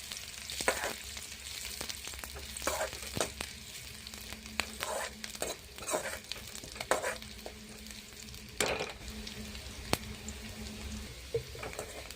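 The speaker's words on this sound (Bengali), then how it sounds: "সজনে শাক ভাজা, এগুলো ফোড়নে দেবো।" Drumstick leaves frying with dried red chilli, green chilli, onion and garlic, a steady close sizzle broken by repeated scraping stirs of the spatula, with no voices.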